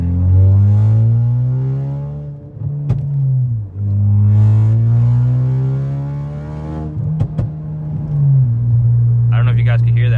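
A Ford Focus RS fitted with an Agency Power exhaust and catless downpipe revs loudly and up close, its deep, raspy note climbing and falling through several throttle blips, with brief crackles between pulls.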